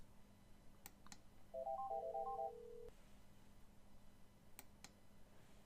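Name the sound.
softphone calling an Outlook contact after clicking the dial icon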